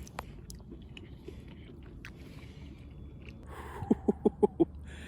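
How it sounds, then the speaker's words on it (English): Doritos chips being crunched at night while stealth camping, five quick, close, crisp bites in a steady row near the end after a long stretch of quiet background hum. "I was thinking about crunchy Doritos when I'm trying to be quiet at night"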